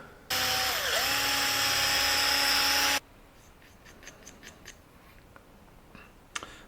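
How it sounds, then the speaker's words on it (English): A tiny high-pitched drill with a 2mm bit whines steadily for a few seconds while making a folding knife from scrap, then stops, followed by faint scraping and light clicks. "Right, 2mm drill bit."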